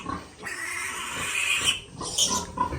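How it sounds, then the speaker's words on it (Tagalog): Pigs and piglets on a farm pen squeal and grunt steadily and loudly nearby, a busy overlapping din with sharper shrill peaks toward the end. "Halos lahat ng baboy dito"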